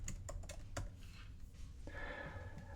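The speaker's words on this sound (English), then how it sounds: "Let's type out January." Keystrokes on a computer keyboard as a word is typed out, a quick run of close, crisp clicks followed by a softer, steadier stretch of tapping, no talking.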